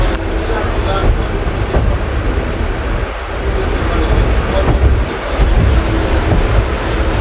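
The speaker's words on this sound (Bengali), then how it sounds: "ট্রেন ছেড়ে দিল" A passenger train bound for Digha pulls away from the platform, giving a loud, continuous rumble of wheels and carriages with voices faintly mixed in.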